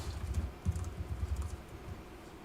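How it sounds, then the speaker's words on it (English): Computer keyboard being typed on during a golf course clubhouse public meeting, with a soft irregular patter of keystrokes close by and no talk over it. "Richard, does the public see what you're typing?"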